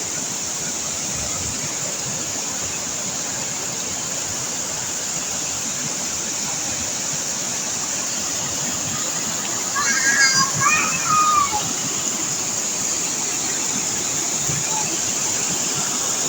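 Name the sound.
waterfall at Little Baguio Falls, Bacuag, Surigao del Norte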